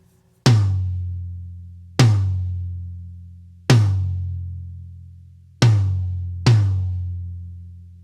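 Five separate strikes on a rack tom fitted with a single Drumdots dampener, each a sharp attack followed by a long ringing sustain that fades slowly before the next hit, spaced about one and a half seconds apart with no talking.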